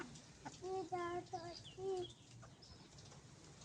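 Several short, nasal calls in quick succession from Aseel chickens clucking nearby, over a low background hum with faint murmuring.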